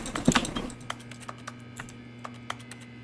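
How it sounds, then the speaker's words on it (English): Keyboard clicks from the video game The Stanley Parable: a quick burst of several keystrokes, then sparse single taps spaced through the rest, close and crisp over a faint steady hum. "every time you touch anything, you make keyboard noises"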